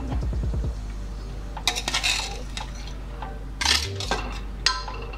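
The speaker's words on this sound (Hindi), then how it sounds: "राइस डाल रहे हैं।" Parboiled basmati rice is added to a pot over chicken for dum biryani, with metallic clinks and scrapes of a spoon against the vessel, several sharp knocks near the end.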